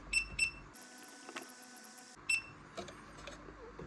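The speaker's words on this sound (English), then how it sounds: "you're going to have to suffer the beeping 30 times" A run of short, high electronic beeps from the button panel of a pond auto feeder, a few spaced chirps then a rapid regular series, with faint clicks in between.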